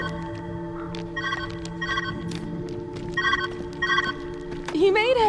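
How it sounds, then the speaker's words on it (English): A telephone rings in the video game Viewfinder with repeated bursts of a bright electronic trill over a steady tonal hum, moderately loud, ending with a rising warbling tone. "Where's that ringing coming from?"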